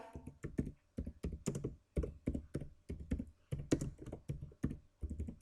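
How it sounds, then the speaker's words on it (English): Someone types on a computer keyboard during a Visual Basic 2010 programming session: a close, uneven run of clicky keystrokes in quick bursts with short pauses, heard alone. "So here I'm going to type"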